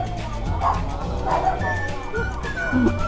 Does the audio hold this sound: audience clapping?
no